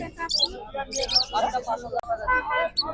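Pet birds chirp at a bird market, bright high calls scattered through a busy scene with people talking and bargaining nearby.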